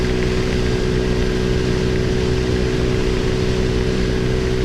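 An XPro Roadster X24 motorcycle cruises at highway speed on I-95 in West Palm Beach, its high-revving engine a steady loud drone mixed with heavy wind roar, constant throughout with no pauses.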